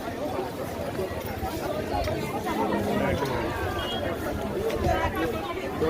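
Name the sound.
crowd of pilgrims at Tuljapur temple on Saturday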